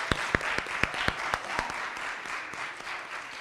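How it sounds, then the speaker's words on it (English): A few sharp, distinct claps ring out early over a wash of crowd applause at a high school performing arts awards night, honoring the Friends of Performing Arts, then settle into a softer, steady patter. "can we give the Friends of Performing Arts a big round of applause for them?"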